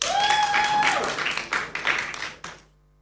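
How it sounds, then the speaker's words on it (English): An audience claps after a magic trick, a short burst of applause that thins into scattered claps and dies away to silence near the end, with a brief voice-like tone at the start. "You can clap if you want."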